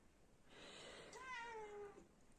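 A cat lets out a single drawn-out meow with a falling pitch, quite faint and close by, over a quiet background.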